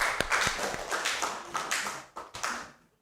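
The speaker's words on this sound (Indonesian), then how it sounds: "tepuk tangan untuk kelompok 1." A class applauding a student group in a classroom, a burst of many close hand claps with sharp individual taps, thinning toward the end.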